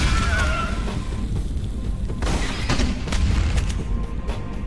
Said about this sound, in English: the actual grenade explosion effect in the AVP game is much more impressive